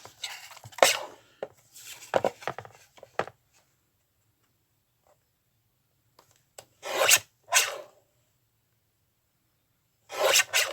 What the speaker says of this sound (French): On va venir couper au niveau du crayon.